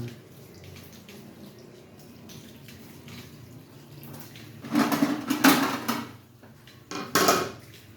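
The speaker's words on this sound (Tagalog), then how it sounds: "Ngayon, isa-isa, huhugasan naman natin. Ayan. Hugas-hugas lang." Tender sweet potato leaves and shoots are swished and rinsed one by one in a basin of water, with soft splashing that swells into louder bursts of sloshing near the end.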